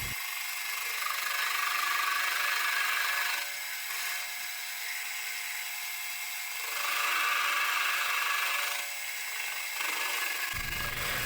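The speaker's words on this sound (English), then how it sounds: "I'm going to take the lathe and start stripping this nut layer by" A metal lathe strips a hex nut down layer by layer, giving a steady grinding, scraping cut that runs continuously with a few brief dips and swells in intensity, close and alone without talk.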